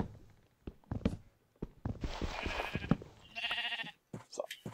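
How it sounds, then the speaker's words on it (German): Sheep bleating in the Minecraft video game, several short bleats in a row alongside footstep-like thuds, fairly close with brief gaps between calls. "Wir ziehen erstmal mit den Schafen um."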